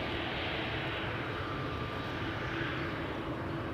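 An airliner takes off from the Polderbaan runway at Amsterdam Schiphol, its engines a loud, close, steady roar of broadband rumble with a faint whine.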